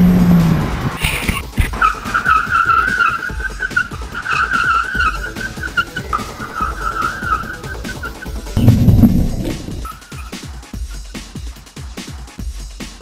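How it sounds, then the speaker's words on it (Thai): A Chevrolet Sonic on 205/50R16 tires brakes hard from 80 km/h with ABS, tires squealing loudly for several seconds over engine and wind noise, then a brief thump as the car settles. "ระบบเบรกคันนี้จะดีเท่าคันอื่นหรือเปล่าเราจะแครี่สปีดไปที่80นะครับ"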